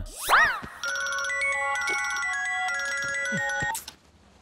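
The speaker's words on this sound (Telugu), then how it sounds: "అర్ధరాత్రి పూట ఫోన్ ఏంట్రా?" A mobile phone ringtone sounds at midnight, a melodic electronic tune that plays steadily and fairly loud for about three seconds after a brief swooping tone, then stops abruptly.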